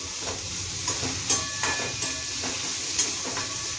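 Boiled green peas frying in a hot pan over a high flame, a steady sizzle with soft scraping stir strokes every half second or so, close and alone without talk.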